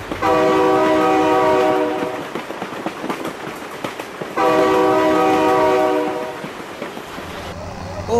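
A train in the BeamNG.drive driving game sounds two long, loud horn blasts, separated by a gap, over the rattling rumble of rail cars passing close by.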